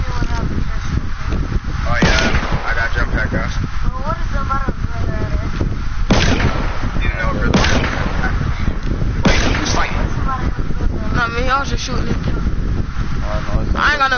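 Gunfire in GTA 5 during an online session, several loud bursts of shots over a rushing wind-like background, with players talking throughout.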